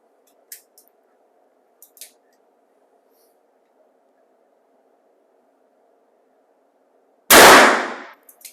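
A single loud, sharp gunshot from a Ruger SP-101 revolver firing .32 caliber rounds through a chronograph, bursting out near the end after near silence broken only by a few faint clicks and handling taps.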